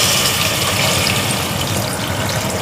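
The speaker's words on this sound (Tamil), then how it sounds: "ஸோ இப்போ நம்ம தண்ணி ஊற்ற போகிறோம்" Water pours steadily into a pot of drumstick leaves and dal being prepared for pressure cooking, a continuous close rushing gush with no voices.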